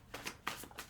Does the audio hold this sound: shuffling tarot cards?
yes